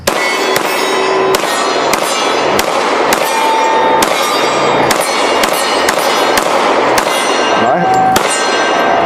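Handgun shots fired in a quick, regular series of sharp loud cracks, about a dozen rounds, with ringing clangs between some of them.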